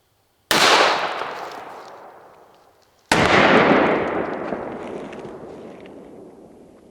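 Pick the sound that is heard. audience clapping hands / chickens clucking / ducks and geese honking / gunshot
gunshot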